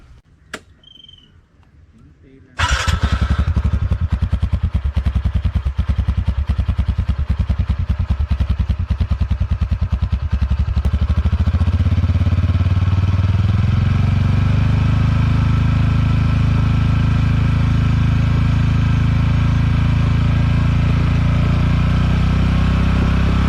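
A TVS NTORQ 125 Race Edition scooter starts and idles close by, its exhaust giving a steady, loud buzzing drone that holds evenly after a brief quiet moment, with no talking over it.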